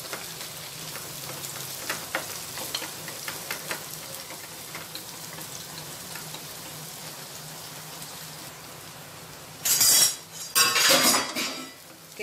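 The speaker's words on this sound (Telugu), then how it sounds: "సన్నగా కట్ చేసుకున్న ఉల్లిపాయల్ని వేసుకుందాము, అలాగే కరివేపాకు వేసేసుకోవాలి. వీటిని లైట్గా ఫ్రై చేసుకోవాలి." Thinly sliced onions and curry leaves sizzle in a hot pan, giving a soft steady crackle, followed near the end by a couple of louder clattering bursts of a utensil stirring against the metal.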